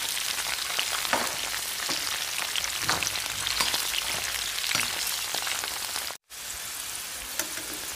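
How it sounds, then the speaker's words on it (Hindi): Okra frying in oil in a pan gives a steady, dense sizzle with scattered crackles and pops throughout. The sound drops out for a brief moment near the end, then resumes. "हमारी भिंडी फ्राई हो चुकी है।"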